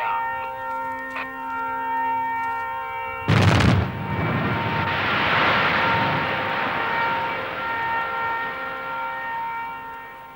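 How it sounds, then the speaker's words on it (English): A staggered limestone quarry blast goes off after a steady droning tone: a sudden loud, sharp burst followed by a long, rolling rumble that slowly fades over several seconds. "The explosion is staggered, with a fraction of a second between the detonations in one hole and the next."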